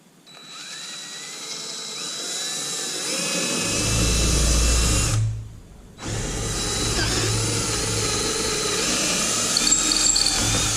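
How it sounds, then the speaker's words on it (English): A power drill with a 1/4 inch bit whines steadily as it bores into material, briefly stopping for a moment before spinning up again, loud and close. "I'm going to drill this out with a 1/4 inch drill bit first"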